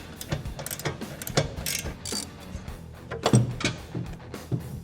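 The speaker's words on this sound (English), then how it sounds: "Put the nut on and tighten it up." Close, quick ratcheting clicks come in short irregular bursts as a ratchet tightens a nut on an adjustable rear camber arm of a 2023 Honda Accord, with a few metallic clanks between strokes.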